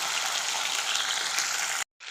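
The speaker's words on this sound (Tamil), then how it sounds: "வெங்காயமும் பூண்டும் நல்லா வதங்கட்டோங்க" Onion and garlic sauté in hot oil in a pan for a neem flower kuzhambu, a steady, close, hissing sizzle that cuts out briefly near the end before resuming.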